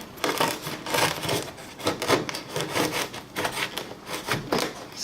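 A metal scraper prying up ballasted HO scale model railroad track, making repeated rough scraping and rasping strokes in an uneven rhythm, close and fairly loud with no talking.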